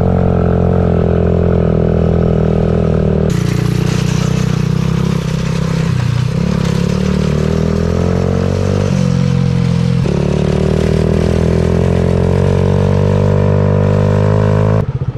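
A classic go kart with a 6.5 HP engine runs continuously, loud and close, its steady drone dipping and rising in pitch as the throttle shifts, with rattling clatter and no talk.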